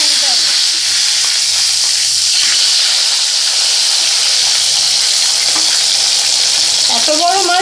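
A large piece of Katla fish fries in hot oil, a loud continuous sizzle and hiss with scattered sharp pops throughout, close up, with a few faint sounds near the end.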